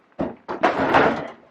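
A desk drawer in an art workspace slides open with a couple of quick knocks followed by a longer, rumbling wooden scrape, close and fairly loud.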